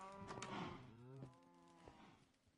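Several drawn-out cow moos in Minecraft, loud and close, one low bellow following another with harmonic tones, no talking.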